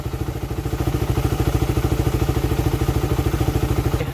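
A Honda Rider 150 motorcycle idles steadily after a carburetor hose replacement, its close, loud engine putting out an even, rapid chugging pulse that holds without change from start to finish.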